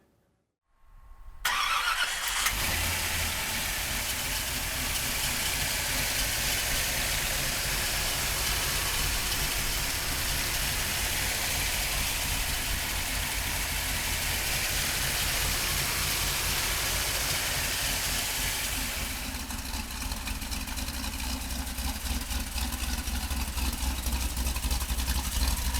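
A restored 1968 Chevrolet Camaro engine turns over and catches, then settles into a steady, loud rumbling idle that continues for about twenty seconds.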